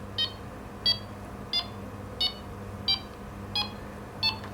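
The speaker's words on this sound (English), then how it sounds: "you just hold down push button 1 and it cycles through the beep speeds" A digital alarm gives short, bright electronic beeps, seven in all, evenly spaced about two-thirds of a second apart over a low steady hum, alone with no talking.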